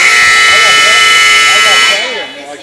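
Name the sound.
buzzer starting a cowboy basketball game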